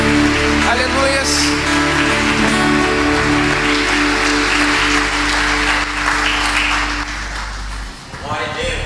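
A church congregation applauds during a worship service, dense clapping spread across the room over sustained musical tones, dipping and thinning near the end.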